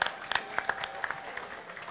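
Brief scattered applause from a studio audience at a Swedish cooking competition semifinal, a few sharp claps standing out over a soft, thin patter.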